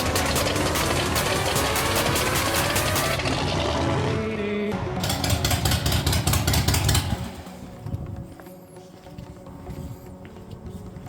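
A freshly rebuilt 309 stroker van engine runs loud and close with a rapid, knocking idle rhythm, then cuts out, leaving a quieter background.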